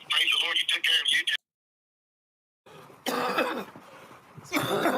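Coughs come in harsh bursts, then a gap of silence, then more rough coughing and throat noises.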